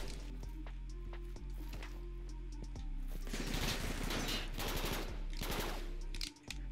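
Rapid automatic gunfire from the fastest gun in the video game Jailbird Remastered, a steady stream of bursts that grows denser and louder midway, with game ambience underneath and a brief drop near the end.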